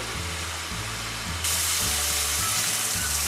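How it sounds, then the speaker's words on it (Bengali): Chicken rezala masala frying in a pan for a Kolkata-style Bengali dish, with water poured in midway so the steady sizzle jumps into a louder, brighter hiss that continues to the end. "এটা অল্প একটু জল অ্যাড করে"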